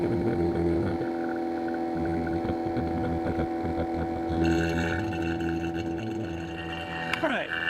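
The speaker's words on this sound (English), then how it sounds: "We're going to start the vacuum pump again and slowly let nitrogen back in." A vacuum pump runs steadily during a triple evacuation of an HVAC system, giving a constant mechanical hum and drone with a shift in tone partway through and a brief clatter near the end.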